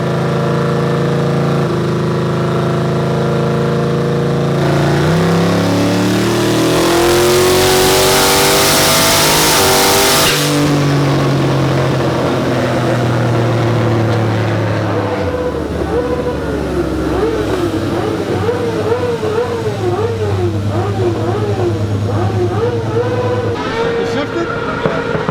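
A car engine roars through a dyno run, climbing in pitch and then lugging down at each shift before it picks back up. The sound stays loud and close for the whole run and finishes in a settling idle.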